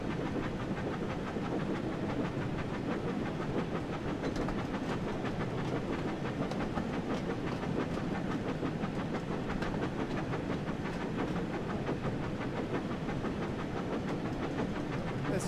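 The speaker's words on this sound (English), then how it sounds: "Let's just hope that these sounds on this Dutch train are going to be correct" A Dutch train runs in Train Sim World 5. A steady, loud rumble of wheels and motor holds at an even level throughout, with faint rhythmic clicking and no talk.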